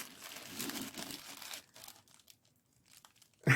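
Plastic and paper packaging crinkles and tears as a Japanese marquetry wooden puzzle box is unwrapped, a dense close rustle for about a second and a half, then scattered softer crackles in near silence and a sharp handling bump at the end.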